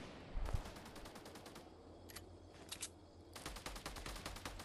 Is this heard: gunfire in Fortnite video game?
yes